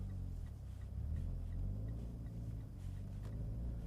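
A Mitsubishi Evo X MR drifts through a corner on snow, its engine a low, steady rumble heard from inside the car, faint and continuous.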